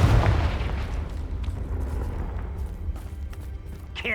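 A Confringo blasting spell goes off in Hogwarts Legacy with a loud, close explosive boom at the start, then a rumbling tail that fades over several seconds.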